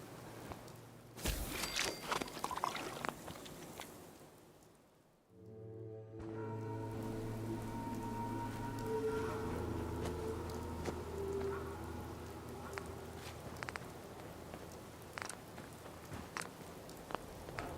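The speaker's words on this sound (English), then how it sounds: "Hope this rain lets up soon." Steady rain falls in the video game Fallout 4, a continuous broadband patter that persists throughout, with a short quieter dip in the middle before the rain resumes alongside low background tones.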